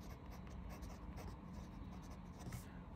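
Pilot soft-nib fountain pen scratching across paper, a soft continuous rasp of strokes with faint rhythmic variation, close and quiet.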